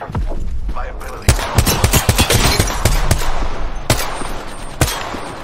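Rapid bursts of gunfire in Apex Legends: sharp, loud cracks and rattling automatic fire come in clusters with short gaps, close and punchy, with faint game sounds underneath.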